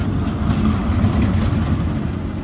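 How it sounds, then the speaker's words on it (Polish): A heavy, continuous low rumble of a train rolling past, steady and loud throughout with broadband noise on top. "pociąg"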